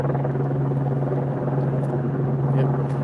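Albuquerque police and news helicopters circle overhead as a steady, continuous rotor drone at a fixed pitch, loud and unbroken throughout.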